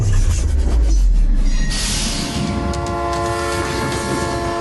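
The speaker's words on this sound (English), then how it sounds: "A train will be barreling down the tracks" A train rumbles steadily along the tracks, close and loud, with a deep low roar and a sustained horn-like tone layered on top.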